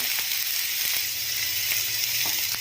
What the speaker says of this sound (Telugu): ఆయిల్ వేడెక్కిన తర్వాత ఇందులోకి మనం రెడీ చేసి పెట్టుకున్న మష్రూమ్ పీసెస్ని టూ మినిట్స్ ఫ్రై చేసుకుందాము